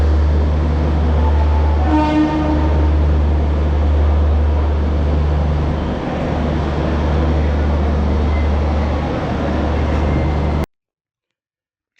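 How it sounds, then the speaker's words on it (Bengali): A Sealdah–Puri Duronto Express pulls away from its platform with a steady, loud low rumble of wheels and carriages, a brief horn blast early on, and the noise continuing until it cuts off abruptly. "ন নম্বর প্ল্যাটফর্ম থেকেই কিন্তু আমাদের দুরন্ত এক্সপ্রেস ছেড়ে বেরিয়ে যাচ্ছে"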